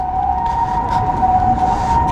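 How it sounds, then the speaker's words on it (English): A very loud outdoor siren wails with a steady, piercing tone, sustained across the whole stretch with faint background noise beneath. "that's the loudest siren I've ever heard in my life."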